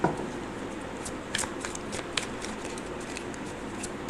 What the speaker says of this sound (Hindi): कुछ और कार्ड्स लेते हैं।